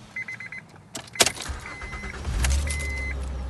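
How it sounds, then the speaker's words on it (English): A first-generation Honda Ridgeline engine cranks and catches after a few chimes and clicks, then settles into a steady low idle close by. "just like that, the vehicle does start up"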